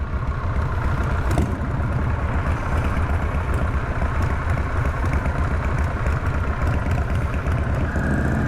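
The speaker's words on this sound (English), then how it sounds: "Such a sweet sounding motor." A motorcycle engine runs steadily throughout a ride, a loud, continuous low rumble with a mechanical clatter and wind noise mixed in, no speech heard.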